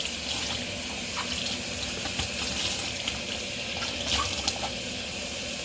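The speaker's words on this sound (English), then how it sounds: "And wash your equipment out." Tap water runs steadily into a sink while equipment such as brushes is washed out, a continuous close hiss and splash with faint clatters and no speech.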